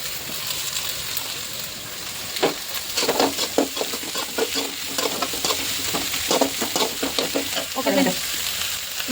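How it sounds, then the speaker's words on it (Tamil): Green chillies sautéing in a pan, a steady frying sizzle broken by repeated scraping stirs of a spoon against the pan, close and fairly loud throughout. "பச்சை மிளகா ஆட் பண்ணியாச்சு. இப்போ வதக்கிட்டு இருக்கோம்."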